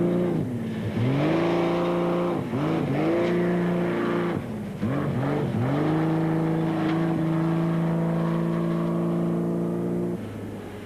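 Off-road rally race car engine, heard during the 1997 Toyota 1000, revs hard through repeated gear changes, with rising and falling pitch sweeps. It is loud and close, then settles into a sustained high drone, with no speech.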